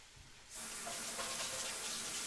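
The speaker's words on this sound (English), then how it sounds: "I shall go wash my hands." Kitchen tap gushes on suddenly and runs steadily into a sink for hand washing after handling raw chicken, a close, even hiss of flowing water that continues to the end.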